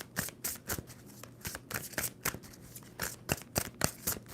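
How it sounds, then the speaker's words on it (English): Tarot cards are shuffled by hand in quick, crisp riffles and snaps, a close, dry rhythm of short bursts repeating throughout with no talking. "2 more shuffles for Gemini."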